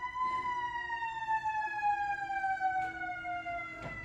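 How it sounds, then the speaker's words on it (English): Fire truck sirens wail as they pass, one long, loud tone sliding slowly downward over several seconds, with faint traffic rumble underneath. "Those are fire trucks."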